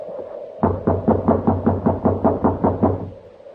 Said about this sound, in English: You just have to keep knocking till he wakes up.